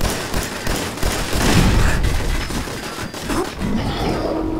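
Video game grenade blasts with crackling, rumbling explosive bursts and dense debris-like popping, loud and continuous for several seconds.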